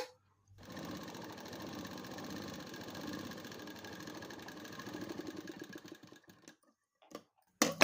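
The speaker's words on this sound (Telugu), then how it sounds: "ఫస్ట్ మనం లూజు కుట్టు మీద కుట్టుకుందాము" Sewing machine running a loose stitch with green thread on top and white in the bobbin, a steady rapid mechanical whir for about six seconds that slows and stops, then a brief clatter at the end.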